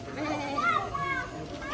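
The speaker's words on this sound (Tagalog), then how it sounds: "Ay nga, kambing." Goats bleat at a wildlife park, their wavering cries rising over a continuous backdrop of people talking nearby.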